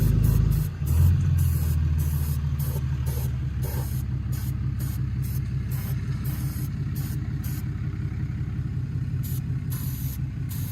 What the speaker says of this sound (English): we got the truck liner sprayed on top of the anti-rust primer on the front to clearance it